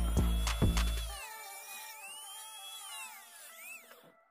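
A power tool cuts away part of the plastic battery holder on a 1/12-scale Rastar Ferrari F1-75 RC car. A loud burst of grinding comes first, then a long, thin, wavering high whine that slowly fades.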